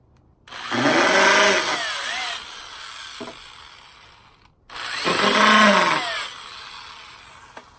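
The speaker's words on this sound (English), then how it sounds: "set some holes, and then go ahead and screw them in" Power drill driving screws into the wooden joints of a three-tier bunk bed, two close, loud bursts of whirring motor that rise as the screw bites and then wind down, separated by a short pause.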